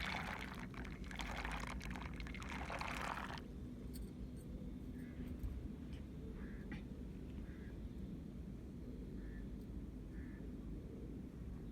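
Peanuts tipped into a pot of boiling water for salted peanuts, a loud pouring, splashing rush for about three seconds that then drops to a low, steady background simmer with a few faint clinks.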